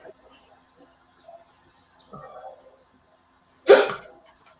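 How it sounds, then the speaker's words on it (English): A single sharp hiccup bursts out near the end, loud and close, after a few soft breathy mouth sounds and faint rustles during an endurance challenge countdown. "loving your hiccups"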